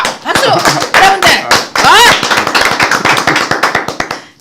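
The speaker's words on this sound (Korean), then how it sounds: "박수 치세요! 박수! 여러분들!" Sharp, fairly close hand claps come in an irregular then quickening series of loud smacks from a small group, mixed with a raised voice calling out over them.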